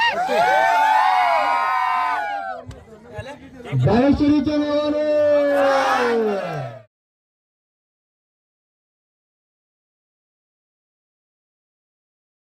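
At a village premier cricket league prize ceremony, a crowd cheers with loud, shrill shouts and whoops that surge, dip briefly, then surge again before cutting off to silence, with a voice calling out among them.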